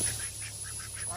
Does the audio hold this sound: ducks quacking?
yes